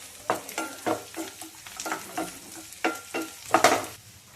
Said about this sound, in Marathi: आता आपण हे 4-5 आल्याचे तुकडे घेतलेत, हे पण त्याच्यात तळून घेऊ चांगले.